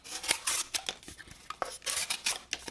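An Ochs Worx Lontra EDX folding pocket knife slices through cardboard, giving a run of close, crisp rasping cuts and scrapes in quick uneven bursts.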